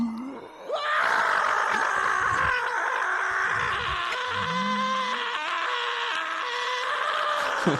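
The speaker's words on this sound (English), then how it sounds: "I got to record my dad screaming at the top of his lungs, and that was fantastic." A man screams at the top of his lungs as a monster sound-design layer for The Thing, a long, loud, sustained raw cry with shifting wails and grunts, slightly rough and close, lasting nearly the whole stretch.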